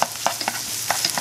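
Onions sauté in a pan for a chicken and asparagus fricassee, a close, continuous sizzle broken by a few quick stirring scrapes, with no talking.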